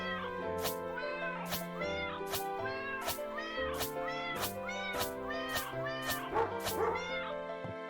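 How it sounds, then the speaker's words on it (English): In Phoenotopia Awakening, a video game cat gives a rapid string of short meows alternating with dog-like barks, roughly twice a second, over steady game music with no talking. "I don't know why the cat barks, but it does."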